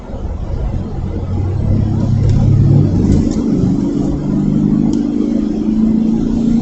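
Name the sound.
pickup truck hot rodding down the road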